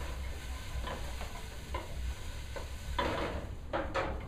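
Onions cooking in a hot pot for garlic cream pasta give a soft, steady sizzle. Intermittent scraping and stirring clicks rise above it, and the last second grows a little busier.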